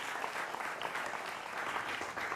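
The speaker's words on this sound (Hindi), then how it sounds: "जोरदार तालियों से अभिनंदन है।" Studio audience applause on a Hindi political debate show, a dense, steady burst of clapping that keeps an even level across the whole short stretch with no talking.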